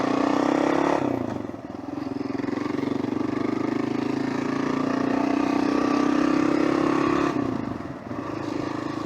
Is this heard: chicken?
no